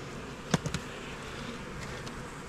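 Honey bees fly around Apidea mating boxes, a thin airborne buzz with a few sharp close taps early on, then a low steady drone, no talk.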